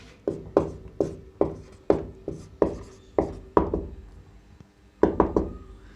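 Chalk or marker strokes on a board while a math solution is written out, a steady run of sharp tapping and scraping strokes, close and fairly loud, with short pauses and no talk.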